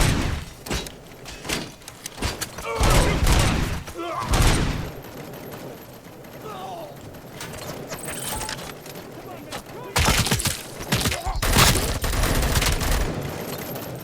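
Gunfire in the video game RoboCop: Rogue City, with repeated loud gunshots and short bursts spread across the clip, mixed with game voices and shouting between the volleys.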